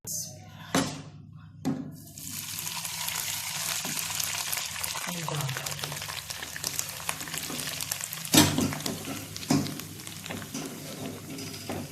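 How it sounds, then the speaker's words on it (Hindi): Hot tempering oil with ginger hits mustard greens with a loud splash, then a steady sizzle and frying crackle continue, broken by occasional clunks of a spoon stirring. "अब ये मैंने इसके अंदर तड़का डाल दिया है।"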